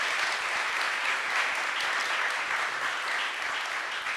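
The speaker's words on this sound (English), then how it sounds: "please join me in giving her another round of applause" An audience gives Reverend Naomi Tutu a sustained round of applause after her talk, an even wash of many hands clapping at moderate distance.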